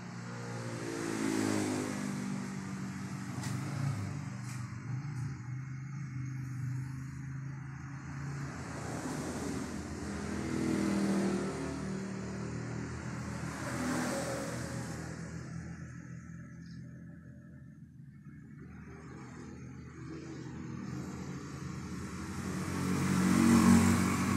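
A Yamaha Vega ZR motorcycle engine, its fuel tank contaminated with water, revs repeatedly in rising and falling swells roughly every few seconds, loud and close, with wind-like outdoor noise throughout.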